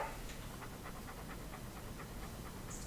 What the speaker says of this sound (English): so this dog noise is much better